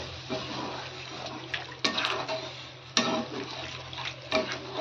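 Water poured into a pan of prawn and bitter gourd curry to make a little gravy, heard as a soft splashing pour with a few louder sloshes, close by and without talk.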